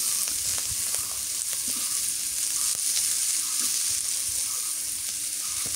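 Chopped onion and green chilies frying in oil in a wok, a steady loud sizzle with scattered crackles and pops and occasional stirring scrapes, no voices.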